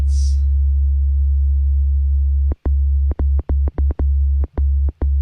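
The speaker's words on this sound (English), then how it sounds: "So I'm getting like a click now." A synthesized sound on an MPC Live: a loud, steady low tone cut by about ten sharp clicks, irregularly spaced across the second half, with a brief hiss at the very start.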